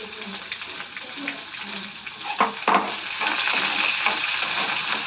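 A small chopped onion fries in a pan with a steady, close sizzle. A couple of sharp clatters come midway, and the hiss grows fuller toward the end.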